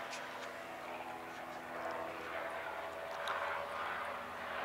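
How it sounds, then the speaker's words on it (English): A helicopter flies above an outdoor shooting range at a skeet shotgun event, its engine drone steady and moderately distant throughout. "We've got a helicopter above the shooting range."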